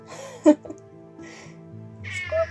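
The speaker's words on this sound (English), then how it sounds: "I had to let my cat out, he was just screaming on." A house cat meows loudly indoors, giving two or three drawn-out cries spaced across a couple of seconds with quiet gaps between them.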